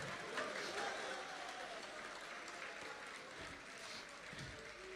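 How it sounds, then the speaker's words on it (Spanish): A church congregation clapping in unison, sustained and fairly distant, with voices mixed in beneath the applause. "Palmas para Cristo, ¿eh? Hágalo con fuerza."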